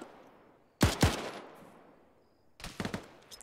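Gunfire in the ArmA 3 military game: two sharp, loud shots close together, a pause with fading echo, then a quick rattling burst of several more rounds.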